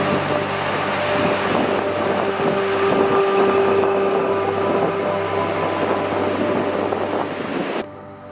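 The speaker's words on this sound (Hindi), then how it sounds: "बहते हुए दरियाए करम्बर का शोर, दरख्तों के पत्तों से गुजरती हुई तेज़ हवा" The Karambar river rushes steadily in Ishkoman Valley, Gilgit Baltistan, while strong wind blows through tree leaves, a loud continuous roar with gusty buffeting that drops off abruptly at the very end.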